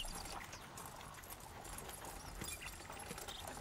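Horses' hooves clip-clopping at a moderate pace as riders enter a village, a faint, steady rhythm of hoofbeats without talk.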